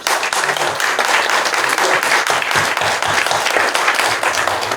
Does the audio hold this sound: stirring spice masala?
no